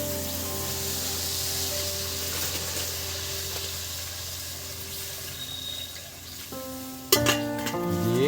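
Water poured into a pan of frying raw-banana kofta curry, heard as a steady close sizzle and hiss, with a sharp sputter and clatter near the end.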